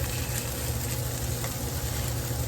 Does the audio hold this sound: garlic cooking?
yes